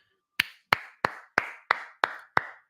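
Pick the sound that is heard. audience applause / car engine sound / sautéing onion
audience applause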